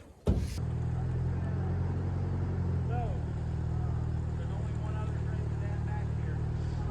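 A vehicle engine drones steadily up close as it backs a trailer out through a tight gap between a shed and another trailer, with a low, even rumble and a brief knock at the start.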